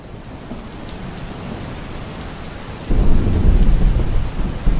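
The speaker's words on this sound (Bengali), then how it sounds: "বাইরে তো গুড়ি গুড়ি বৃষ্টি হইতাছে, বিদ্যুৎও চমকাইতেছে।" Cartoon storm with light drizzle and thunder: a steady hiss of rain runs throughout, then a loud, deep rumble of thunder swells in near the end and holds to the close.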